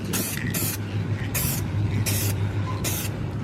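An aerosol can sprays paint onto Integra Type-R side skirts in five or six short hissing bursts, loud and close over a steady low background hum.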